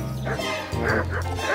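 Dog barking in the medieval role-playing game Kingdom Come Deliverance, a few loud, close yelping barks in quick irregular bursts, with game ambience beneath.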